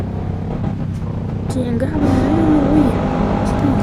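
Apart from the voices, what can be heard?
car driving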